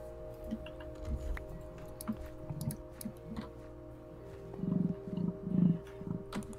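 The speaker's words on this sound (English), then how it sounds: "Oh, that's the emu. They make that noise." An emu makes low, pulsing snorts and booming grunts in a rhythmic series, fairly faint against a quiet background, growing a little louder toward the end.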